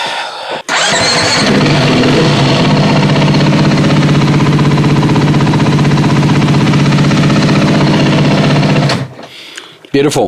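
A brand-new 2022 Beta RR390 Racing motorcycle engine starts and idles loudly up close, a rapid even rumble that runs steadily for about eight seconds before cutting off, with a brief spoken word at the end.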